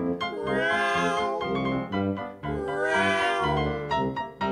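A human voice imitates a kitten's meow in a song, sustained and sung with harmonic richness, two long drawn-out meows in the foreground over musical backing.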